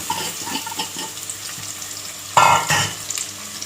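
Thinly sliced onions hit a hot pan of ghee for ghee rice, giving a steady crackling sizzle with a sudden louder burst of hissing as they go in, then continued frying and stirring.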